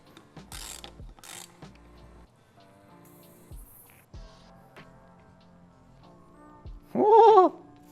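A hand ratchet driving a Fox tool to remove the top cap of a Fox 38 mountain bike fork clicks in short bursts of sharp pawl ticks with pauses, ending in a louder squeaky grind, close up and without talk.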